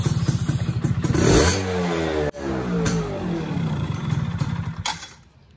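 Two-stroke engine of a Yamaha F1ZR motorcycle running after a carburetor adjustment: a loud, close, buzzy idle that swells into a brief rev, wavers unevenly, then shuts off at the end.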